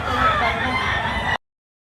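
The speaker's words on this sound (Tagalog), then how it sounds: "Mag-iisang taong manok" A rooster almost a year old, offered for sale, crows once in a short burst over faint background chatter, then cuts off abruptly into silence.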